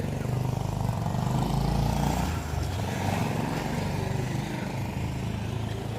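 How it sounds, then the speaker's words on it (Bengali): Continuous rough engine drone of small motorbikes nearby, loud at first and easing slightly, with faint voices underneath. "এখানে দুই একটা বাইক ঘুরতেছে।"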